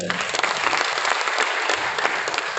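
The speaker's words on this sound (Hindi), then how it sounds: "हाँ ये तालियां बजा दो एक बार।" Audience at an indoor seminar in Brahmapur, Odisha applauding, with a dense, steady wash of clapping from many hands lasting the whole moment, loud and close.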